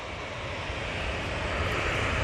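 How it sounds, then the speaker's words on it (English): A VistaJet business jet at Manchester Airport begins its takeoff roll, its engines producing a steady, broadband roar that swells slightly toward the end, with no voices. "VistaJet now on the roll."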